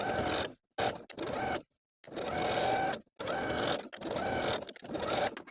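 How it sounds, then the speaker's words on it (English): A sewing machine runs a stretch stitch attaching elastic to the tops of shorts, in several bursts of steady whirring separated by short silent pauses, close and fairly quiet with no talk. "We're going to sew the elastic to the tops of the shorts, 1/4 inch away from the seam that we just sewed, using your preferred stretch stitch."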